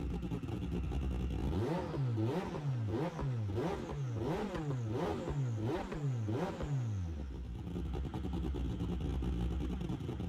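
A Nissan engine in a racing video game revs hard in a quick series of about eight rising and falling blips, loud and close, then settles back to a steady idle drone.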